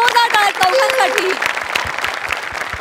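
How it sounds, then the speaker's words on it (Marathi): A television comedy studio audience claps loudly for four child performers, with sharp, distinct claps over a speaking voice and sung tones at the start, thinning slightly toward the end. "एकदा जोरदार टाळ्या चौघांसाठी"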